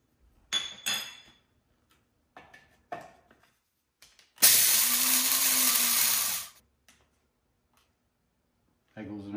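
A quarter cup of black pepper whirs loudly in an electric grinder for about two seconds, surrounded by clinks and handling noises and a few brief bursts before and after.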